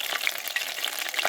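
Small fish coated in gram flour and marinated with lemon, ginger-garlic paste and turmeric frying in hot oil, a steady close crackling sizzle with sharper pops throughout.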